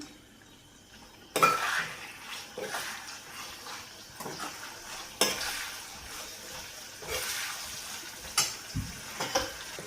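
A tomato drops into a pan of crispy potatoes and okra, followed by soft sizzling and intermittent spatula scrapes and stirs, close and fairly quiet.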